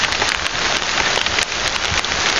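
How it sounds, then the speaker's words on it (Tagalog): Heavy rain pours steadily onto a surface, a dense loud hiss with scattered splashing drops, close and continuous with no other sounds. "Tingnan mo, pinapalakas yung ulan."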